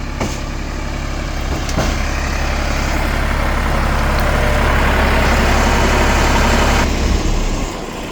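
A large truck's engine idles steadily at a nursery while trees are unloaded, a loud, constant low diesel rumble running throughout with no speech.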